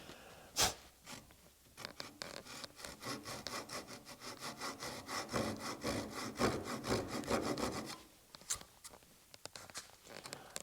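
A hand saw cuts a half-lap dovetail in wood with a steady run of quick back-and-forth strokes that speed up and then stop, heard close and fairly quiet with no talking.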